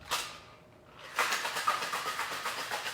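A cocktail shaker holding a vodka drink with syrup is shaken hard, a steady run of rattling, sloshing bursts after a brief pause, fairly loud and close, with no talking.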